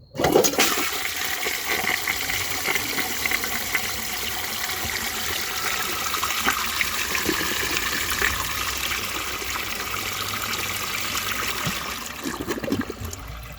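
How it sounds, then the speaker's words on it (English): A 1927 Peerless low tank toilet flushing: a loud, close rushing gush of water that holds steady for over ten seconds, then tapers into a gurgling refill. "I will show you guys a flush"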